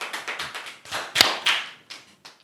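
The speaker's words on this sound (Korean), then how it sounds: "박수로 맞이해 주시기 바랍니다" A small studio audience at a Korean seniors' chat show claps in a few scattered, uneven bursts, close and fairly quiet, with brief gaps between rounds.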